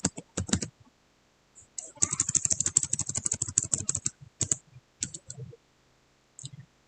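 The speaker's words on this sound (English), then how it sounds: "type this command WMIC" Keys on a computer keyboard are typed close to the microphone as a command is entered. Short clusters of crisp clicks come first, then a fast continuous run of keystrokes, then scattered taps separated by quiet gaps.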